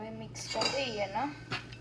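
A spoon stirs sugar into vegetable curry in a metal pan, making a few quick scraping clinks and taps against the pan over about two seconds while a voice speaks softly nearby.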